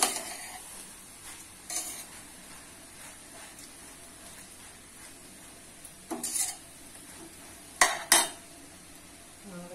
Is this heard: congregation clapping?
no